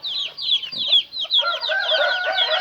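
On a chicken farm a mother hen leads her chicks to feed, clucking softly while the chicks keep up a dense, close chorus of high peeping throughout.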